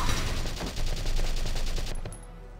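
Rapid automatic gunfire rattles in the Valkyria Chronicles battle, a loud close burst of evenly spaced shots lasting about two seconds before cutting off abruptly.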